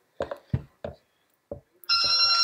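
A cell phone goes off with a loud electronic ringtone that begins abruptly near the end, following a few short knocks and thumps from soap-making work in a home workshop.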